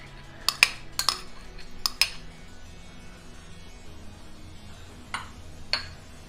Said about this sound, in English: Now I'm going to add the vegetables.